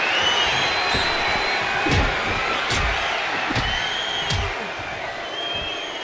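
Arena crowd in the WWE 2K25 wrestling video game, a steady roar of cheering with a few sharp slams and thuds breaking through, loud and continuous.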